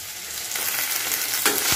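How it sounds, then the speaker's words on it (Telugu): Mint leaves and green chillies frying in a pan, a steady close sizzle with light stirring scrapes and no voices. "పుదీనా చూడండి మంచిగా ఫ్రై చేసేసుకున్నాము, మధ్య మధ్యన కలుపుతూ."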